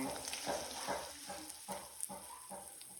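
Red chilli chicken being stirred with fresh coriander in a frying pan, a steady sizzle beneath repeated scraping strokes of the spoon about every half second, close and fairly quiet.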